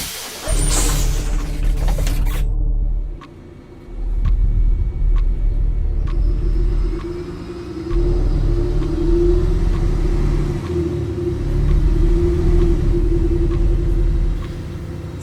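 A bus engine rumbling as it drives at nightfall, with a heavy low drone that dips briefly and then surges again, like the engine working through gear changes. Light rattles and clicks sit over the steady rumble.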